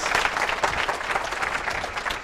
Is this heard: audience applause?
yes